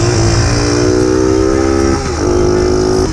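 Honda Super Cub motorcycle built for downhill mountain pass riding, its small engine droning steadily and loud up close, pitch rising smoothly, dipping briefly near two seconds, then holding again.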